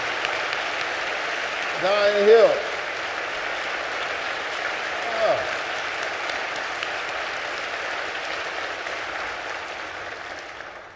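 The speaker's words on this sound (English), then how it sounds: "Would you do me a favor and give them a great big round of applause?" Soft, sustained audience applause in a church during a senator's town hall, running as a steady wash for the whole stretch while someone briefly speaks over it near the start.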